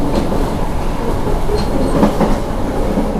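An Argo Merbabu passenger train rumbles along the rails in a continuous loud roar with faint clicking from the wheels and no voices.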